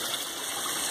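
Steady gushing water draining through a bell siphon from a grow bed built from a tyre on a wooden platform, a continuous close rushing flow with no talk.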